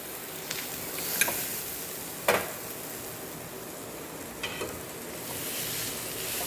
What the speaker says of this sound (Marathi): आता ह्याला चांगलं हलवून घेते एकदा.